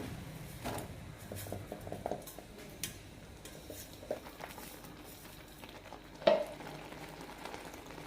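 A spoon stirs a jackfruit seed snack mixture with cardamom and dry ginger powder in a pan over a low flame, giving soft, close scraping and patter with faint sizzling and one sharper knock near the end.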